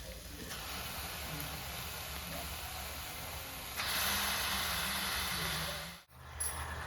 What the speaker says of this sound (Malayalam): ഈ സമയം നമുക്ക് കഴുകി വെച്ചിരിക്കുന്ന ബീഫ് ചേർത്ത് കൊടുക്കാം